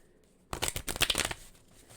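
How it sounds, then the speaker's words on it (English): Tarot cards get a quick, close shuffle, a short burst of crisp riffling clicks lasting under a second, in an otherwise quiet room. "I feel like it needs an extra shuffle."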